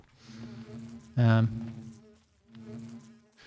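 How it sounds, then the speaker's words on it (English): Bees buzz in the Minecraft modpack All the Mods 9, a thin steady drone with one louder, brighter burst partway through, heard alone. "So I think we're going to bring the bees over to here"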